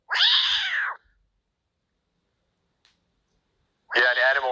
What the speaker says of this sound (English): This cat was clearly shaken up. You could hear it.